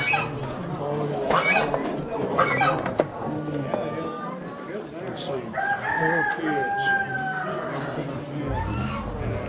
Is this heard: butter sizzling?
no